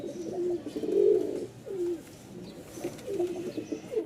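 A pair of biscuit-coloured Rajshahi Giribaz pigeons coo close by in repeated low rolling phrases, with short pauses between bursts and no talking.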